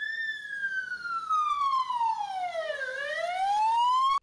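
A police car siren wails close and loud, its pitch sweeping slowly down and then back up in one long glide as officers set off with flashing lights on a holiday visit to a large family.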